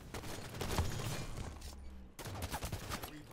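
Rapid gunfire from a video game shooter, rattling in dense overlapping bursts that fill most of the stretch, with a brief gap before shots resume near and loud.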